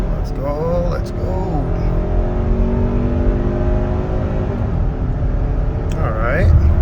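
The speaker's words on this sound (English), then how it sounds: "I will see if I can get a quick acceleration on this car" A 2022 Hyundai Tucson Limited pulls onto a highway and accelerates hard, its engine note climbing in a rising whine over a steady roar of road and tire noise that continues throughout.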